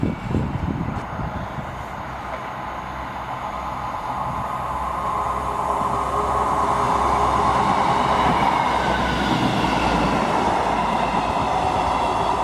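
A Class 158 diesel train passes through South Gyle station on a Perth to Edinburgh Waverley service, its loud rolling rumble and rattling wheels swelling steadily as it draws nearer.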